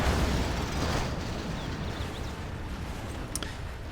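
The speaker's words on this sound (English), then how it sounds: "Scud launcher comes in." A Scud launcher strike explodes in a strategy video game, a heavy, rumbling blast that fills the opening moments and then decays into a long, dense roar, with a sharp crack near the end.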